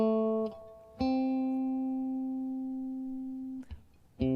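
A guitar plays a few notes of a major pentatonic scale, each single clean pluck ringing out with long sustain, one note held for nearly three seconds before the next, alone and fairly soft.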